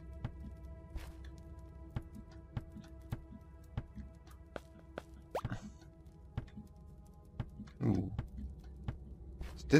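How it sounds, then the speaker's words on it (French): A small pig creature in Starbound gives short oinking grunts over a quiet game backdrop of repeated plopping clicks and a low hum, with louder snorts toward the end. "Un petit cochon, non,"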